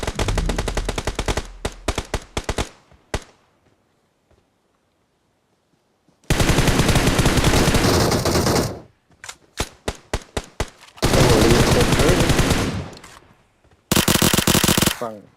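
Bursts of rapid automatic gunfire in the mobile battle royale game PUBG Mobile, loud and close, in several long strings separated by short single shots and pauses, including one stretch of near silence.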